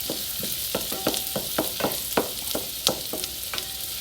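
Minced garlic and onion sizzle in a soup pot for chicken noodle soup, a soft constant hiss punctuated by regular scraping stirs, close and quiet, no voices.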